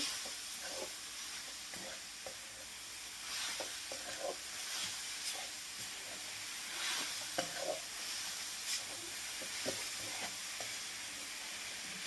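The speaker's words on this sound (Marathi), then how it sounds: "बघा, एकसारखं असं हलवत राहायचं आहे." Beetroot and sugar mixture for barfi being stirred in a pan over medium heat, a steady sizzling hiss with soft scraping strokes repeating throughout, continuous and moderately close.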